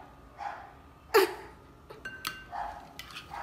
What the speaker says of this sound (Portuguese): ignorem o cachorro latindo